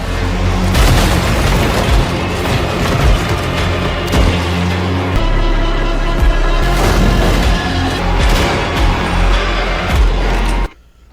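Heavy booming gunfire and explosions from a video game trailer, loud and continuous with dense overlapping blasts and impacts throughout, cutting off abruptly near the end.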